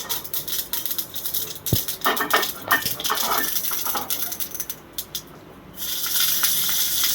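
Mustard seeds and urad dal sizzling in a little hot groundnut oil for rasam, a crackly, hissing sizzle with scattered pops, fairly close and continuous with a short dip near the end.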